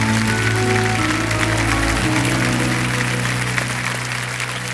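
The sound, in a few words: studio audience applause on Kaun Banega Crorepati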